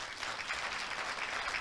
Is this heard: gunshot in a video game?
no